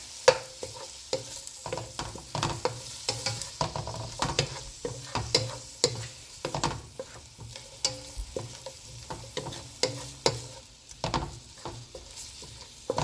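Jamaican turn cornmeal is stirred in a pot with seasoning and Scotch bonnet pepper, producing rhythmic scraping and thick slapping strokes over a soft sizzle, close and steady, with no voices.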